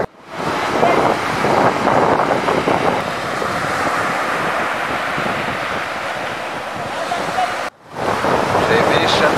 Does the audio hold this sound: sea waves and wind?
yes